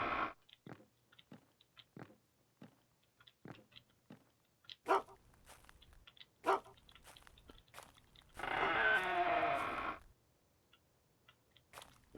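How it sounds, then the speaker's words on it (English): Large dog barking in the UnReal World video game, a series of short sharp barks with brief chewing or crunching bursts and a longer noisy rustle near the end, fairly quiet overall. "Big dog."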